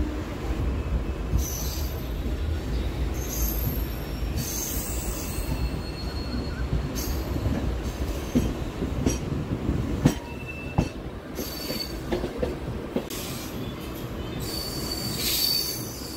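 A Howrah–Haldia local train on the South Eastern Railway line near Durgachak, with loud, sustained metallic wheel squeals over a continuous rolling rumble and occasional clicks of the rails, heard from on board with no talking.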